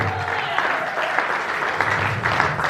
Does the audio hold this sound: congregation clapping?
yes